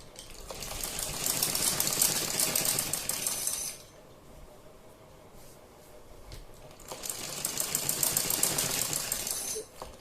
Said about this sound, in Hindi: इसमें इस तरह से हम सिलाई लगाएंगे